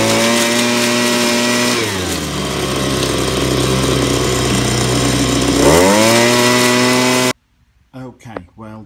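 A Ryobi gas-powered leaf blower runs loud and close with a harsh two-stroke drone. The engine pitch dips and then revs back up before cutting off abruptly. A few quiet sounds follow.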